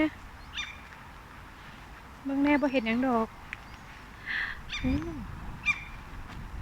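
Ducks and ducklings in a Norwegian forest give a few short, nasal honking calls at close range, with people talking intermittently around them.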